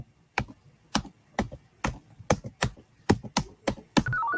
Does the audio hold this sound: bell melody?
no